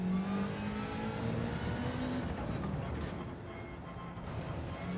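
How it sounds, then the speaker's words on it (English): A race car engine in Gran Turismo 7 at the Red Bull Ring revs steadily with rising pitch and upshifts, droning loud and continuous with little else over it. "I'm just listening to the engine and shifting up."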